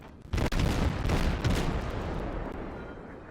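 Naval gunfire in the video game World of Warships: a sudden loud boom of heavy guns followed by further rapid blasts, then a long rumbling decay, with no talking.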